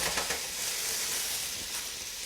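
Ground pork sizzling loudly as it hits a pot of sautéed onions and garlic, a bright, steady frying hiss with faint stirring.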